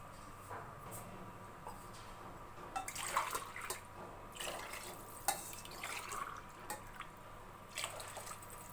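Water is poured onto rice in a pot while making capsicum bath, a quiet run of splashes and drips that come in small bursts with short gaps.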